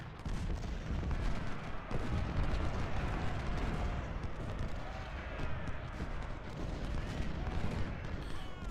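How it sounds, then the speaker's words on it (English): Canister artillery fire in the Ultimate General: Civil War video game, a dense continuous roar of cannon and musket volleys rumbling across a battlefield, loud and unbroken. "Canister fire sucks."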